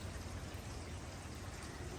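Summer rain falls in front of a suburban home near Salt Lake City, Utah, a faint, steady hiss of drops and trickling water with no other distinct sounds.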